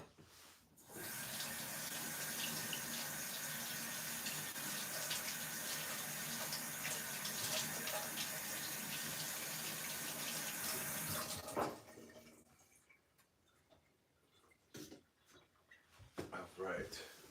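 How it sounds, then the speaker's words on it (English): Running tap water rinsing kitchen blades in a sink, a steady loud gush for about ten seconds that then stops, leaving scattered clinks and small knocks. "I'm going to rinse this off so it does not dry up."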